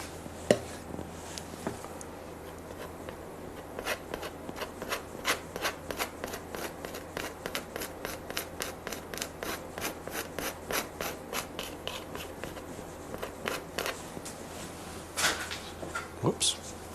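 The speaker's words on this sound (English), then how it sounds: "A lot of scraping in this one." Paint being scraped across a canvas while painting a rocky canyon scene: a steady run of rapid, close, rasping strokes in a regular rhythm, with a few louder knocks at the start and end.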